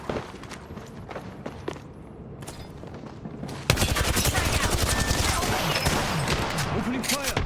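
Video game gunfire starts as a few scattered distant shots and then turns halfway through into a loud, dense, continuous burst of rapid fire that stays up to the end.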